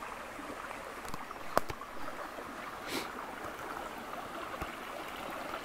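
A small stream flowing beside a hiking path, a steady soft rush of running water heard nearby with a few faint knocks and scuffs, no talk.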